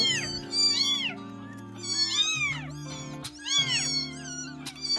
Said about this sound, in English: I put the 4 sheepy kittens in a pop-up today and they're so loud.